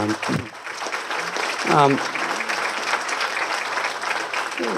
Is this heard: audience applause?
yes